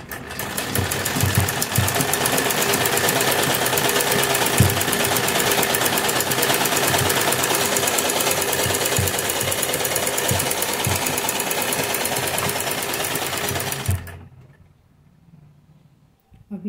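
Sewing machine stitching lace onto a kurti neckline runs in a steady, loud, continuous whir for about fourteen seconds, then stops abruptly, leaving quiet room noise.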